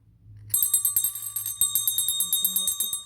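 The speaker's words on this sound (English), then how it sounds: "If you have a bell" A small bell rung repeatedly to cleanse a room's energy, bright metallic strikes in a quick, steady rhythm, each ring overlapping the last and sounding close and clear after a brief quiet start.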